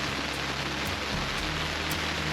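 Steady rain falling in the Philippines, a dense continuous wash of drops pattering on surfaces, even and unbroken throughout with no voices.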